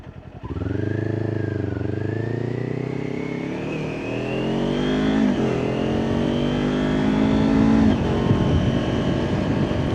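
A Kawasaki Ninja 400 sport bike's engine drones steadily while riding, its pitch rising through one gear then dipping briefly at a shift before climbing again, loud and close with wind rush underneath.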